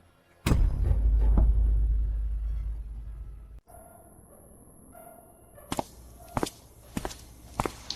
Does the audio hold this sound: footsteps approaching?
yes